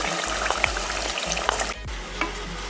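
Mutton korma mixture frying in a pressure cooker over a medium flame, a steady close sizzle with repeated spoon scrapes as it is stirred, with a brief pause before the frying carries on.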